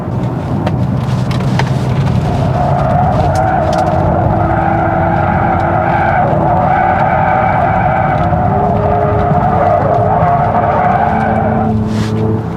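A 2026 Genesis GV60 Performance electric car rounds a downhill corner in sport mode with slight rear slip, giving a steady loud whine and layered tones that hold and shift throughout, no voices present.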